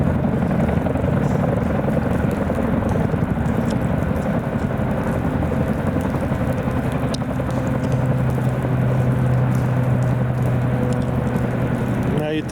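Big Chinook helicopters run at an airport, a loud continuous rotor and turbine roar that holds steady throughout, with a low engine hum rising toward the end.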